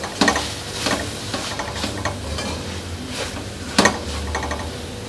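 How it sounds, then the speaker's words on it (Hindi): Carrots fry alongside chicken in a hot pan with a steady sizzle, punctuated by a few sharp scrapes and clinks of stirring. "गाजर थोड़ी हार्ड होती है, तो इसको मैं पहले इसके साथ 1-2 मिनट फ्राई करूंगी"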